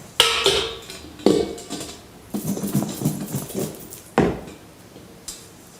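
Cauliflower pieces tossed into a batter of milk, flour, salt and paprika in a bowl: sharp clinks of the utensil against the bowl, with wet, squelching bursts of mixing between them and pauses in between.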